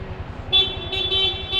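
A motorcycle horn sounds in several short beeps over a low idling engine rumble, loud and close.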